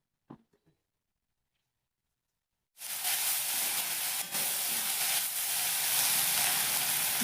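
Onions sizzle in hot oil for a fish curry, a sudden loud hiss bursting in after a few quiet seconds with faint clinks and then carrying on as a steady, close frying crackle.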